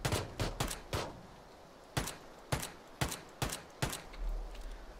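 Sharp, separate gunshots from the battle royale game PUBG, about eight cracks at irregular intervals, fairly quiet and distant-sounding, with faint low rumble between them.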